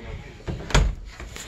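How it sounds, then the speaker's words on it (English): A bedroom door opening, a soft muffled thump with a short creak-like rustle in the middle of a quiet room, moderately close. "This is my door. We walk in."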